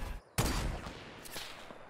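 Gunfire in the video game Fortnite: a sudden loud burst of shots cuts in, then rattling fire and scattered reports continue for a moment, up close and alone.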